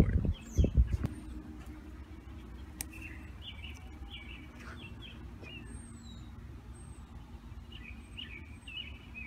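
Small birds chirp in scattered short calls across a backyard vegetable garden planted with okra and callaloo, fairly faint against steady outdoor background hum, after a brief louder rustle at the start.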